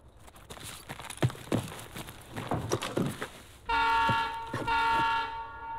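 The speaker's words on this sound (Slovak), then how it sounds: "Dobre, vlak odíde" A train departs a station in a video game: footsteps and shuffling noises give way to a loud, sustained two-tone train horn that blasts twice near the end.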